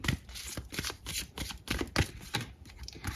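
Osho tarot cards are shuffled close up, producing a rapid run of soft riffling bursts in a loose rhythm with no voices.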